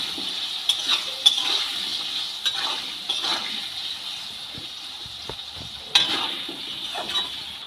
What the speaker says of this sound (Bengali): হলুদ লবণ দিয়ে আলুগুলোকে ভালো করে ভেজে নেব